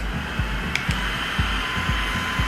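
A small electric fan used for eyelash work whirs with a steady, loud, close hiss and hum like a hairdryer, with faint soft thumps recurring under the drone.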